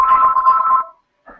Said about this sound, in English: Oh, hang on, guys. I gotta go answer the phone.